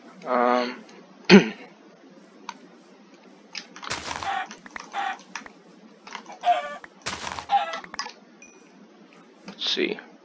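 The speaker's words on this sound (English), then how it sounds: "Kill these chickens." Chickens cluck in the Minecraft video game in short bursts amid sharp clinks and combat hits, with a person talking intermittently over the game sounds.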